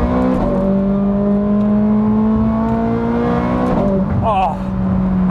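A Ferrari 430 Scuderia engine pulls up through the revs in a smooth, rising drone, loud and close from inside the car, then shifts and climbs again near the end.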